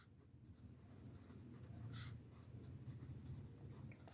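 Soft, steady scratching of a formula being written out for a calculus lesson on reduction formulas, quiet and close, with no talking.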